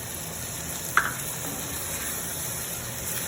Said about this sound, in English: I'm going to go ahead and deglaze that pan with some of the broth